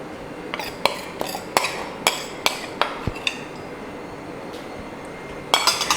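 A metal spoon clinks repeatedly against a pot while fried onion tempering is stirred into mashed jackfruit, a string of sharp, regular taps followed by a louder cluster of scrapes at the end.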